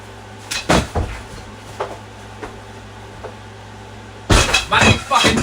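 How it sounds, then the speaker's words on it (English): A door kicked open: two heavy thuds early, a few lighter knocks, then a loud burst of banging and clattering near the end over a steady low hum. "You come in the door, you kick the door open."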